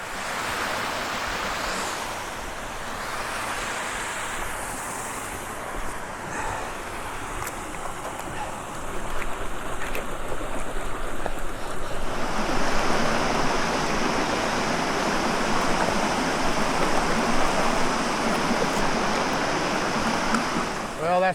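River water rushes over boulders and bedrock drop-offs in Northern California, a constant broad hiss of flow that grows louder and fuller partway through and stays steady to the end.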